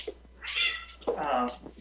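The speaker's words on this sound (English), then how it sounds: "I have a dog trying to beat up a cat" A cat meows in two drawn-out, whiny calls close by, with a person talking over it during a household scuffle between the cat and a dog.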